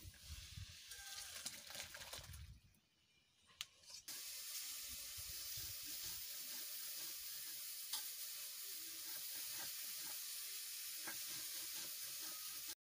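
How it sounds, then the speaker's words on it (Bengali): Cumin seeds and bay leaves hit hot oil in a pan and burst into a loud, steady sizzle that continues unbroken after an earlier stretch of clattering and running water. "গরম হয়ে গেছে, আমি কটা জিরে দিয়ে দিচ্ছি, তেজপাতা দিয়ে দিচ্ছি"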